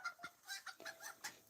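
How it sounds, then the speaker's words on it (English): Hens on a rural property cluck softly in a short run of quick, fairly quiet calls, a few birds close by with nothing else heard. "Chickens!"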